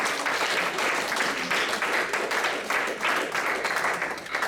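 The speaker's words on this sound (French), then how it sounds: "Acclamons pour le Seigneur," A church congregation bursts into sustained applause for the Lord, a dense continuous clatter of many hands filling the room, with a few voices mixed in.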